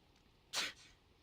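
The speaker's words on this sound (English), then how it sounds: "You sneeze, you feel a slight chill." A single short sneeze from a character in the video game Persona 4, one sharp burst standing alone against a quiet background.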